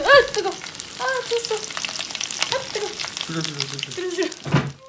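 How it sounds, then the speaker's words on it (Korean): Korean green onion pancake batter with wet green onions sizzling in a heated frying pan. Crackling sizzle runs beneath a person talking. "드디어 달궈진 후라이팬에 파전만 붙이면 되는데 파에 물기를 깔끔하게 털지 않으면 대참사가 난다는 사실"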